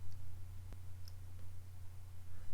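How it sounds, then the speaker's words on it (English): A few sharp computer mouse clicks, close and fairly quiet, heard alone with a low steady hum underneath and no talking. "And I go to alignment, click on center."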